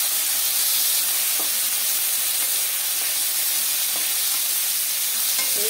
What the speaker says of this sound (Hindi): और आलू अभी फ्राई होगा